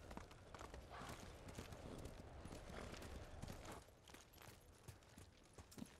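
Quiet, rapid hoofbeats of a galloping horse in the video game Ghost of Tsushima run continuously, with a dense, steady clatter throughout.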